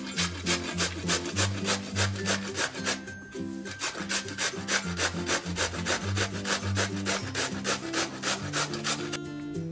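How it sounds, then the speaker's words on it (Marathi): Peeled bottle gourd rubbed against a kitchen grater in fast, steady rhythmic rasping strokes, close and continuous throughout. "आता हा दुधी भोपळा आपल्याला किसून घ्यायचा आहे"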